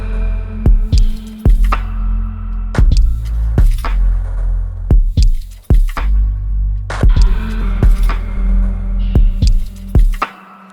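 An electronic beat built from samples in Ableton Live plays loud and up close, with punchy kick and percussive hits over a sustained low hum, looping without talking.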